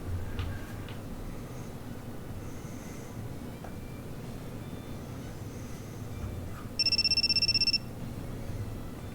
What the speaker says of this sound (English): My private cell phone begins to buzz in the pocket of my uniform, emitting that familiar electronic jingle.